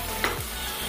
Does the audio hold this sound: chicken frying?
yes